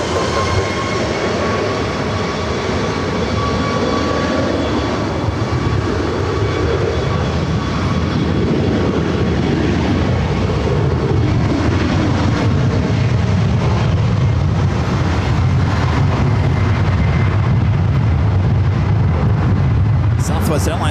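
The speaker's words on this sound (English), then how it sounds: "Southwest Airlines heading to Chicago Midway, 737-700. Next takeoff on 24 left" A Southwest Airlines Boeing 737-700 takes off from runway 24 left at LAX, its jet roar building and sweeping steadily for about twenty seconds, with radio voices talking underneath.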